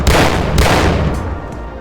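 A shotgun loaded with buckshot fires in a video game, one loud close blast with a booming low-end tail and a second report trailing off behind it, no voices.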